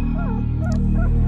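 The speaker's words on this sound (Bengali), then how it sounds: "কুকুরটা ডাকছে, পরিত্রাহী চিৎকার।" A dog sound effect in a radio suspense drama, a desperate, frantic cry heard as a few close, rising and falling yelps and whines over a low steady hum.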